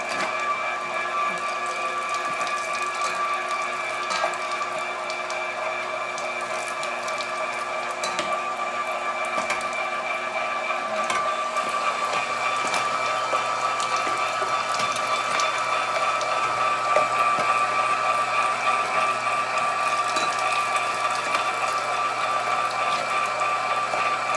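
A Reber electric tomato strainer machine runs with a steady motor whine and drone, loud and continuous throughout, with squishing and crackling from the tomatoes being pressed.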